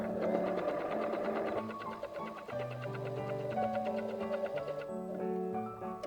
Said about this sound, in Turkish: Pedala basıp dikişimi gerçekleştireceğim.